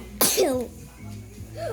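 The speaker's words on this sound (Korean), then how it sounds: "포카에 재채기를 했더니" One sharp, loud sneeze bursts out close by, followed by a brief voiced sound and a quiet indoor background.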